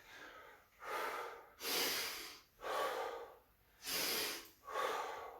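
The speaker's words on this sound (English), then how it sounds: "Keep breathing." Heavy breathing during a home squat circuit workout: about six loud, rhythmic breaths, each a long hissing inhale or exhale that swells and fades, steady and close with no talking.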